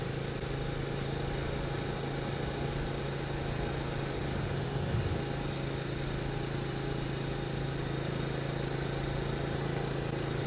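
A Benelli motorcycle engine buzzing steadily while being ridden, a constant mid-pitched drone with a strong low hum and wind rush, even and unbroken throughout.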